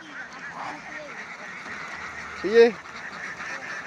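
A herded flock of ducks at a river lets out a single loud, nasal quack amid quiet outdoor ambience, with faint voices in the background.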